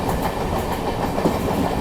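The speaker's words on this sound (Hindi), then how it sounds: "ये देखो बगल से लोकल ट्रेन क्रॉस हो रही है" A Howrah local train crossing alongside on the next track, heard from inside an Amrit Bharat Express coach as a continuous rumbling, rushing roar with faint rhythmic rail clatter, steady and fairly loud with no talking.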